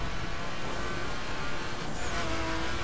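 A Ruf RT 35 in dirt-spec build drives in the racing video game The Crew Wild Run, giving a steady, loud engine and road roar with faint tire noise throughout.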